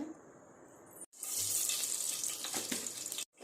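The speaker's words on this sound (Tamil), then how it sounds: "இந்த வாழைப்பூவை நல்லா பொடியாக அரிஞ்சிட்டு தண்ணி ஊற்றி நல்லா வாஷ் பண்ணிவிட்டு ஃபில்டரில் வடிகட்டி வச்சுக்கணும்" Water running onto finely chopped banana flower to wash it for a stir-fry side dish: a close, steady splashing stream that cuts off briefly and then resumes fuller and louder before stopping.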